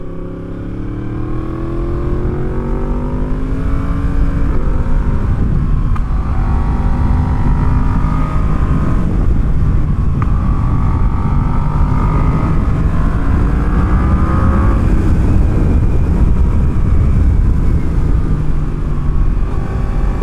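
A Yamaha FZ-10 motorcycle engine runs while being ridden, loud and close, with the engine pitch rising and falling through revs for about twenty seconds and no voices.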